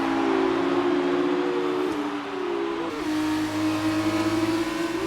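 Engine note of F1 race cars in the F1 2019 video game during an F2 Japanese GP league race, a steady high-pitched drone that shifts pitch as the cars run on, loud and continuous with no talking.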